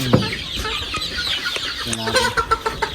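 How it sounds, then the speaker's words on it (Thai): Hens clucking in short, irregular bursts close by, with the busy chatter of a farmyard flock behind them and no talking. "อันนี้ตัวไก่น้อยนะเนาะ"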